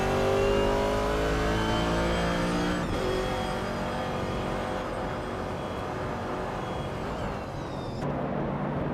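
A 1970 Chevrolet Camaro racing engine revs hard and steady in a racing game, its loud droning harmonics climbing in pitch, shifting near three seconds, then climbing again before cutting off sharply near the end.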